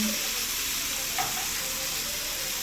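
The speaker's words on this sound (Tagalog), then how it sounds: "Igisa lang muna natin ang bawang, sibuyas hanggang sa medyo lumambot na po yung bawang." Garlic and onion sauté in a pan with a steady, even sizzle that carries on unbroken and close, with a single faint tap near the middle and no voices.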